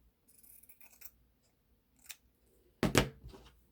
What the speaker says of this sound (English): These are just dollar store scissors